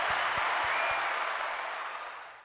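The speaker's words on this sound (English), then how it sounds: "Round of applause for that man." Crowd applause swells as a steady wash of clapping, holding loud and then fading away at the end, with a few low thumps early on.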